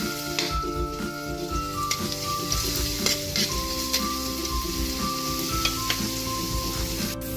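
Garlic frying in cooking oil for Filipino squid adobo, a steady crackling sizzle with sharp pops and spits, loud and close throughout with no voices over it.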